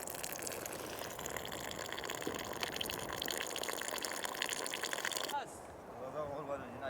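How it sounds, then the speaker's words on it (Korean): Water gushes steadily from an outdoor tap at an oasis in Morocco's Sahara desert, a loud continuous rush that carries on without a break, then eases slightly near the end. "조심스레 돌려보니 물이 쏟아진다."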